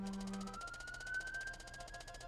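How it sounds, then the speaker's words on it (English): A siren wails with a slowly rising, steady tone over a constant background hum, moderately faint and with no one talking. "Oh no! Sirens!"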